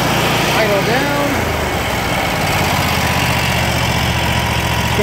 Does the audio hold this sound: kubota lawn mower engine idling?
yes